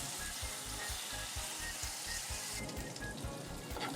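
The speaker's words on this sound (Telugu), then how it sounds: "రెడీ చేసి పెట్టుకున్న ఆనియన్, జింజర్ గార్లిక్ పేస్ట్ కూడా వేసి లైట్ బ్రౌన్ కలర్ అయ్యేంత వరకు వేయించుకోవాలి" Onion and ginger garlic paste frying in a pan give off a loud, steady sizzle with a soft rhythmic stirring pulse underneath, close up and with no talking.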